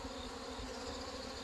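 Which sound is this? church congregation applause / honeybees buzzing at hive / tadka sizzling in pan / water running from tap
honeybees buzzing at hive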